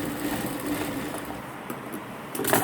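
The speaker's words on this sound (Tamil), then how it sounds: "அப்படியே ஸ்ட்ரைட்டாக தையல் போட்டு" A sewing machine runs a straight seam on a coat, its needle chattering in a fast, steady mechanical rhythm close by, continuous throughout with no talking.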